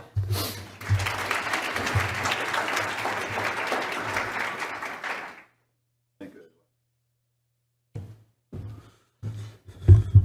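Audience applause at an energy modeling annual forum, a steady roomful of clapping for about five seconds, then silence broken by a few coughs and small knocks.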